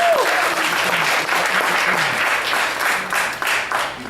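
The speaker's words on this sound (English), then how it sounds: "Give yourselves a round of applause." Enthusiastic audience applause with some cheering at a Father's Day spoken-word poetry night at a New York poets cafe, sustained and fairly close, with a voice briefly rising over the clapping.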